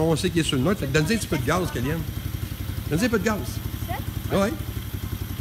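The engine of an Apollo VRX 125 youth ATV idles in neutral and rises in a few short throttle blips, close and steady, while people speak French over it.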